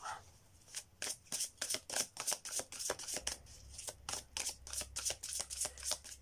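A deck of tarot cards riffled and shuffled repeatedly, giving a steady run of crisp, close flutters with a low rumble building underneath partway through.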